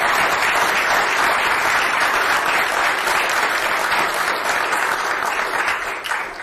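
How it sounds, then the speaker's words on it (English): An audience at the Economic Club of New York breaks into loud, sustained applause, a thick wash of many hands clapping steadily before easing off slightly at the close. "Let's start with a round of applause."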